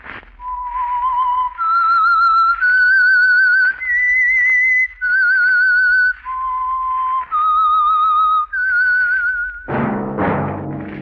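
A single person whistles the slow, clear theme melody of the 1948 radio drama The Whistler, sustained notes each held and separated by short pauses, loud and close, ending with a brief noisy burst.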